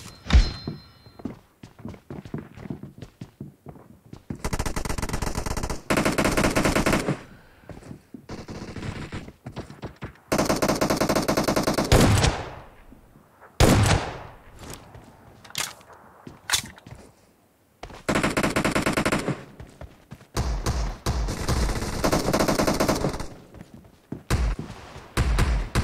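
Rapid bursts of automatic gunfire in a BGMI video game gun game mode, loud close volleys separated by short quiet gaps, with single shots and thuds between them.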